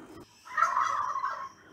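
An angry turkey hen gobbles in one loud, rapid, warbling burst, close by, with no talk around it.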